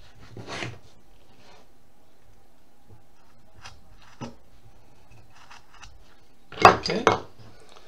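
Knife trimming wood while carving a caricature figure, heard as sparse, sharp scraping clicks and cuts, a few scattered strokes, then a louder close burst of two or three quick cuts near the end.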